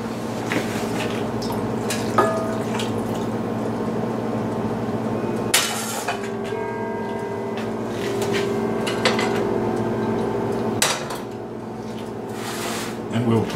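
Warm water runs and splashes into a container nearby while making beef stew, with clatters and clinks of kitchen items interrupting the steady flow.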